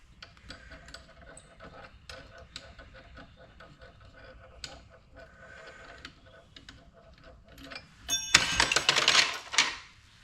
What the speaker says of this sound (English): Loosen the bolt.